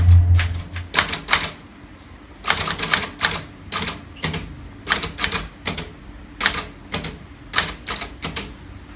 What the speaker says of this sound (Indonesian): ketik naskah ini dengan cepat dan teliti